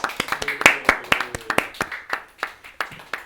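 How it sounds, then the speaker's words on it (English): A small group clapping for performers on a school morning show, a sparse, uneven run of hand claps up close, with faint voices mixed in. "Let's give them a round of applause."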